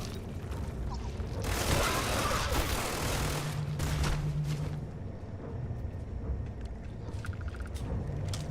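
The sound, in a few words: Mag Shear gun firing in Starfield video game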